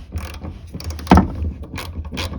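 Ratchet wrench backing off 10 mm fuel pump retaining nuts on a 1992–2000 Honda Civic, a dense run of mechanical clicks with one sharper, louder crack near the middle.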